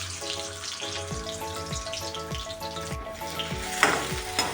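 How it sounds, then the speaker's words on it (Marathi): Potato pieces fry in hot oil in a kadai, a busy crackling sizzle over a repeating low rhythmic thump and hum, with one brief sharper splash near the end and no talking. "बटाटा छान तळून घ्यायचा आहे."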